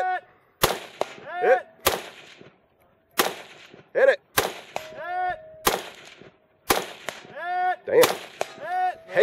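Sharp, loud gunshots at a two-gun action challenge shooting match ring out one after another with gaps between them, interleaved with brief voices and shouts from people nearby.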